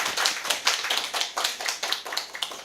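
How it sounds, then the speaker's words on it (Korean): A small group claps to welcome a speaker at a church gathering, brisk uneven handclaps with a rhythmic tapping quality, moderately close, no talking. "박수로 환영할까요?"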